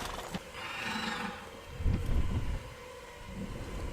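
A horse whinnies loudly with a shrill, wavering neigh, followed by low snorting and rumbling in an outdoor setting.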